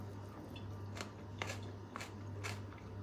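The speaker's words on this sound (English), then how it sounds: "Good crunch." Crunchy bites into a pickled egg with jalapeno, a few sharp crisp crunches spaced about half a second apart, close up over a steady low hum.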